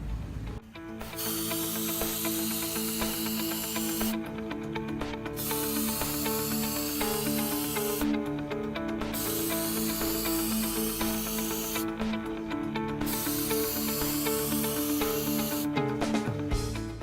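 Action Clear anti-corrosion coating is sprayed onto an HVAC control board in four long, even hissing bursts separated by short pauses, close and steady, with no talking.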